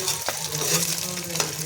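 Batter frying in a pan and stirred until brown, with a steady close sizzle and short scraping stirs across the pan surface, no voices.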